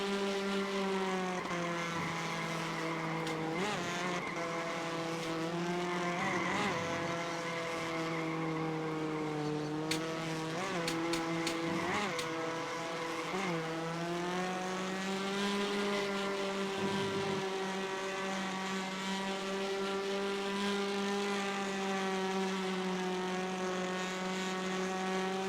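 A race car engine roars steadily in iRacing Arcade, with strong harmonic tones that rise and fall through gear changes and brief tire skids, running continuously and loud with no talk.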